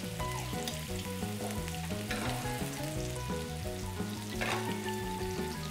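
Scallops searing in hot oil with lemon zest and garlic while being basted like a steak, a soft steady sizzle with occasional spattering bursts, partly masked by prominent background music.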